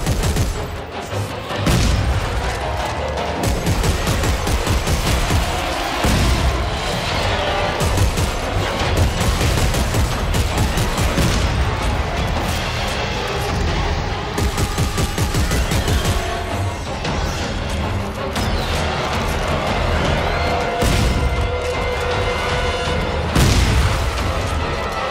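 Sustained gunfire from the weapons-training session in the video game Dead Space 3, with dense repeated shots and booming blasts rolling almost continuously at a loud, steady level, and no talking.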